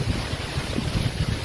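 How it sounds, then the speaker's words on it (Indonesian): Strong wind blows across a park in the morning before a typhoon, a steady gusty roar buffeting the microphone with low rumbling bursts and no voices. "Makanya sekarang anginnya itu mulai terasa kenceng banget."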